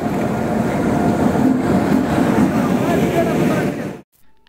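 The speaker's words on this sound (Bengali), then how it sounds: "ট্রেন আসছে" Amritsar Express arriving at a railway station before dawn in heavy fog: a loud, close, continuous rumble of rolling wagons that holds steady, then cuts off abruptly near the end.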